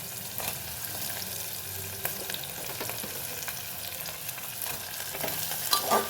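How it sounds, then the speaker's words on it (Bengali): Onion, green chilli and capsicum stir-fry in a hot pan, a steady close sizzle broken by scraping stirs and small clinks of the spatula, with no talking. "ক্যাপসিকামটা দিয়ে একটু নাড়াচাড়া করি।"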